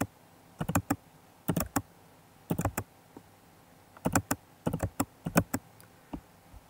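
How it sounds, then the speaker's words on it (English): Typing on a computer keyboard, close and fairly quiet, in short clustered bursts of a few quick keystrokes with brief pauses between groups, no voices. "When the results are in, We simply type in the letters."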